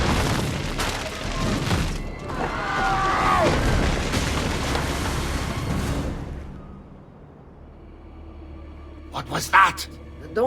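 Firecracker-like explosions go off in the Assassin's Creed II video game, loud rumbling bursts over several seconds that fade, followed by a few sharper pops near the end, with talk in places.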